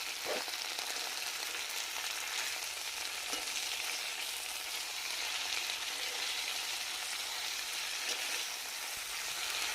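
Onion and washed moringa leaves stir-fry in a pan, giving a steady, even sizzle throughout with faint scraping from stirring and no voices.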